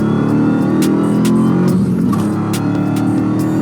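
A loud, deep supercharged Dodge Hellcat V8 engine rumbles steadily with a throaty exhaust burble, close up and sustained throughout.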